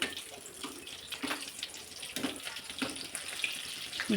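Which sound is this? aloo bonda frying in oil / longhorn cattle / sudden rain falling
aloo bonda frying in oil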